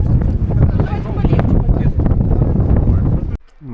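Icy mountain wind buffets the microphone in a loud, continuous roaring rumble that drops away sharply just before the end.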